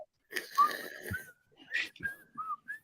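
A person whistles a short, wavering tune in brief bursts, close and fairly loud, with faint background noise between the notes.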